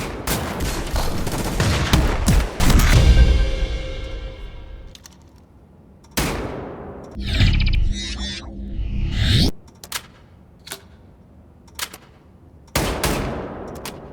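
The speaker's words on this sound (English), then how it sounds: "I think it's the best looking double-barrel shotgun so far." A double-barrel shotgun in the shooter Wolfenstein: The New Order fires loud, booming blasts that decay slowly. Sharp reload clicks and shell handling fill the gaps between shots.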